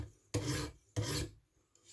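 Two deliberate rasping strokes of a Spyderco Pacific Salt knife blade drawn across a sharpener to deburr the edge, each about a third of a second long, close and distinct, separated by quiet, followed by a faint tap.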